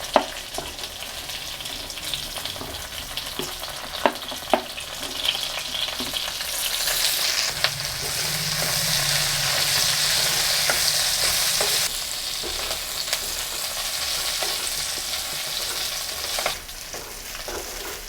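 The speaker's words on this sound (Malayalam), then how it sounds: "ഇനി നമുക്ക് പച്ചമുളക് ഇട്ട് കൊടുക്കാം" Green chillies with trimmed tips fry alongside onions in a pan, giving a steady close sizzle that runs throughout with occasional stirring clinks and scrapes, and no voices.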